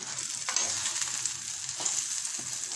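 Hawawshi, dough filled with meat, fries in a pan with an even, close sizzle and a few soft knocks as it is flipped. No voices are present.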